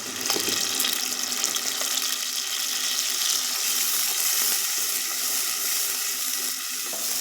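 Ground ripe tomato poured into a hot frying pan for karuvadu gravy, producing a continuous hissing sizzle, steady and fairly close, with no talking.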